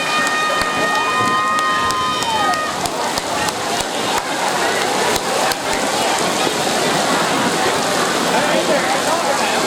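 Steady, heavy rain pours down with a dense hiss throughout, and a brief tonal squeal at the start.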